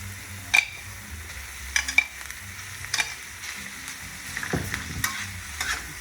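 Broccoli rabe hitting a hot frying pan and sizzling steadily while it is stirred, with a few scraping and clinking touches, close and fairly loud.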